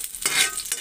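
Garlic dropped into a pan of hot used cooking oil sizzles and crackles briefly and close by, with some stirring.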